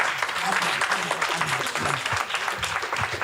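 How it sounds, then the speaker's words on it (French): Steady applause from a church congregation, many hands clapping densely throughout with a brief voice audible underneath. "On peut les applaudir, s'il vous plaît."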